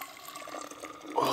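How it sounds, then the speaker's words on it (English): Water boils in a container at a winter campsite in Montana at minus 27 degrees, giving a faint, steady bubbling and hiss that swells slightly louder at the end. "we've got a little bit of boiling water in here"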